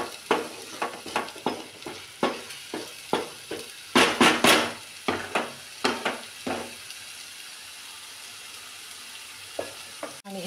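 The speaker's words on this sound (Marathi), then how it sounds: "तेजपत्ता घालून घेते. तेजपत्ता न स्वाद येते आणि असं परतून घ्यायचं." Bay leaves stirred in hot oil in a pan for whole masoor dal give a sizzling fry broken by a steady run of scraping stir strokes, with a louder burst midway before the strokes thin out near the end.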